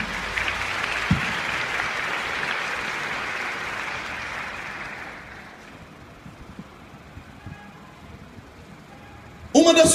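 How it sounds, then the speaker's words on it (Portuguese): Church congregation applauding after a Bible reading, a broad wash of clapping that fades out midway, leaving quieter room noise before a sudden loud burst at the end. "vamos aplaudir a palavra do Senhor"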